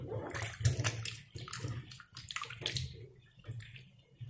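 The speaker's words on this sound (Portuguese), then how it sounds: "Agora, eu vou jogar essa água aqui fora." Water is poured out in a kitchen while tripe is being prepared, a steady splashing stream with sloshing and uneven surges, fairly close, with no talking.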